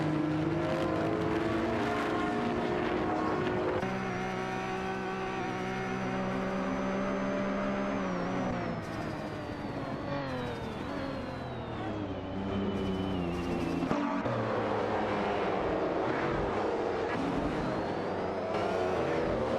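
Ferrari F50 race cars scream past in an AI racing video game, high engine whines rising and falling through gear changes, loud and continuous with overlapping cars.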